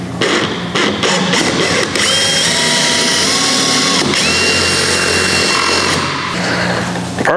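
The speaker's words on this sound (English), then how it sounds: "Then I'm coming in right behind it with a 5/16 inch drill bit." A power drill with a 5/16 inch bit widens a pilot hole in a kayak hull, giving a loud, close, continuous whirring grind with slight pitch shifts throughout, alone without speech.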